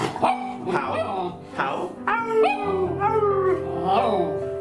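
A female dog barking, yipping and howling up close in a run of drawn-out, wavering vocal calls, with a person talking over her now and then.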